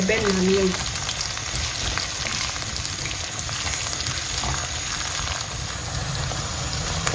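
Dawadawa frying and melting in hot oil for a Ghanaian egusi stew, a steady close sizzle and crackle running throughout with a few soft utensil scrapes and no talking.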